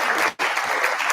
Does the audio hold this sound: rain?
no